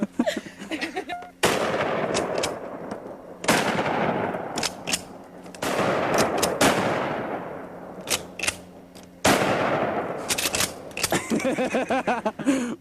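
A sawed-off shotgun fires several loud, sharp blasts at irregular intervals, each with a lingering echoing tail, heard outdoors with voices talking between shots.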